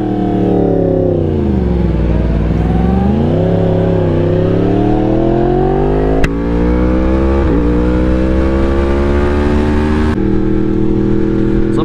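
A Yamaha R1 sport motorcycle ridden through canyon roads, its engine droning loud and close, the pitch dipping and climbing through throttle changes and shifts, with wind rush over the whole stretch.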